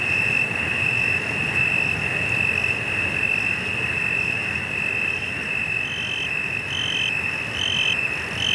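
Grass insects chirp at night beside a calm inland body of water on Jeju, a dense, steady drone of shrill trilling with a few pulsing calls repeating in the last seconds, with no voices.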